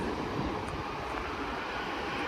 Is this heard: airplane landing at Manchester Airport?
yes